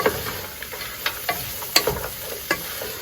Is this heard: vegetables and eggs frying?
yes